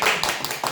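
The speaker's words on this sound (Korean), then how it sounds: "자 박수 한번 쳐요 감사로서." Several people clap together in a short, close burst of applause at a building management meeting, loud and dense for under a second.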